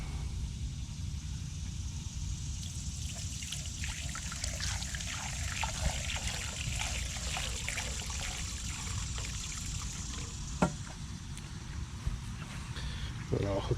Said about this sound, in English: So I'm going to splash some diesel in here